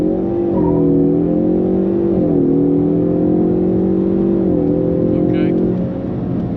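A 2023 Ford Mustang EcoBoost in drag strip mode with traction control off, accelerating hard through a 0 to 60 run, its engine tone climbing in steady steps through gear changes, loud and close from inside the cabin, with a brief spoken word.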